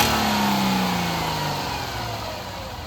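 A Hyundai/Kia GDI engine, revved to about 3,000 RPM during intake cleaning, is already at high revs and winds steadily back down toward idle. The sound is loud and close, with no voices.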